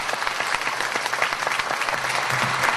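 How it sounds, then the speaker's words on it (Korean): Warm audience applause for a vice minister after his special lecture on the Government 3.0 plan, dense continuous clapping from a hall crowd, steady for a few seconds. "박찬호 차관님께 다시 한번 뜨거운 박수"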